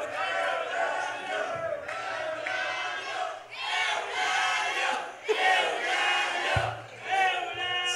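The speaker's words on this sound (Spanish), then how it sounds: "Fuerte el aplauso para Yael Plata." A live comedy-show audience shouts and cheers in loud rhythmic bursts, crowd voices rising and falling like a chant, with some clapping mixed in.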